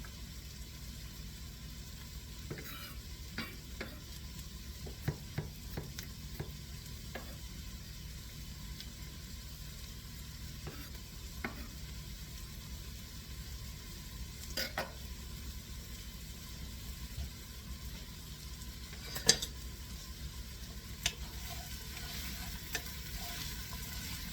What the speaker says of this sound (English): Just chopping my garlic as the onions cook.